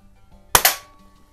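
A Swedish Excellent C1 .21 caliber pump airgun fires once indoors in a garage, a single sharp crack followed almost at once by a second snap, likely the pellet striking a can, then a short fading ring.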